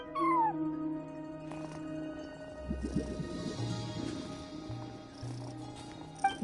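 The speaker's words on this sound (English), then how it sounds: "No one except for a cat watching over the front desk." A cat at a front desk in the video game Genshin Impact gives a short rising meow, then a low rumbling purr with further soft mewing over layered game background music, with no talking.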